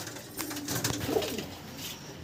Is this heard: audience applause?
no